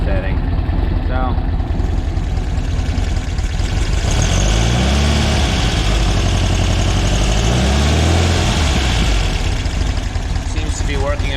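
Engine idling steadily after its lean best idle mixture was reset, a continuous low rumble with no popping, running under background talk and some nearby mechanical noise.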